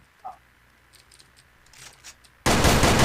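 Gunfire in the online shooter Sudden Attack during a competitive match, a loud dense burst cutting in abruptly near the end after quiet scattered game clicks.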